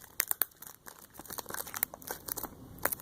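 Plastic packaging on a Pokemon tin is torn open by hand, close up, giving irregular crinkling and sharp crackling snaps that come in bursts.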